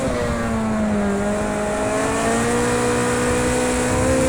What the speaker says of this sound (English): Let's try to drift it a bit.